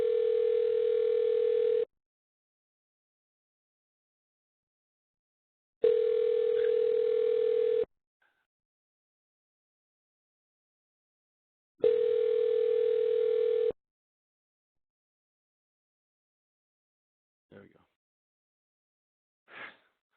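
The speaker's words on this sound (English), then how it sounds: "there was a big phone ringing in the background there" A telephone rings in the background of an online training webinar, three long steady rings about six seconds apart, fairly loud and clear, followed by a couple of brief faint noises.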